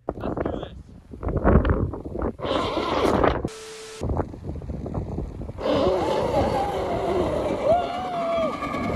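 A rough grinding of machinery gives way to a shrill, wavering squeal of an electric motor's drive belt slipping and shredding on a rideable pig build, loud and close, with rumbling noise underneath.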